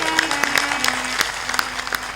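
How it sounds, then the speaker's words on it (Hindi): Audience at a religious satsang gathering in Rajasthan clapping: scattered, uneven handclaps in sparse bursts over a low hum, fairly close. "ताली बजाए बेटे के लिए"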